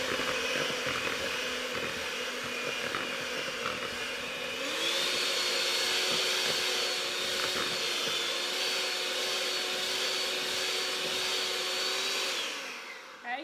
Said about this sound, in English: Okay, you're going to mix it again for 2 minutes.